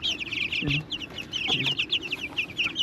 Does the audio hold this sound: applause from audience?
no